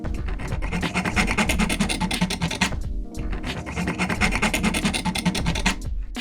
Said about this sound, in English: You can see that the file's working by the plastic shavings that are sticking to it.